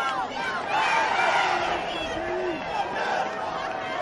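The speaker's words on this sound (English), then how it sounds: "Brunswick once again cheering." A crowd of fans at a girls high school soccer championship game cheers and chatters from the stands, with raised shouts and excited voices blending into a lively, mid-distance roar.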